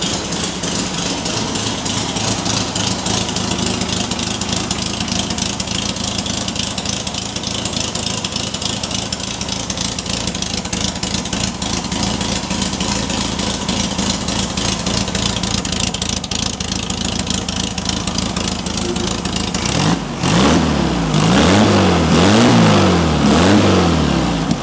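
Mini-T dune buggy engine running loud and close, with a long steady rattling idle followed by several rising and falling revs near the end.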